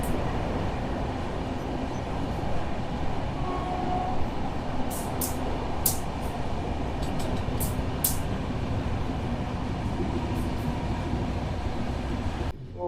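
The 12295 Sanghmitra Express runs through Madan Mahal railway station near Jabalpur without stopping, heard from on board as a loud, steady rumble of wheels and rail clatter, with a few brief high metallic squeals partway through.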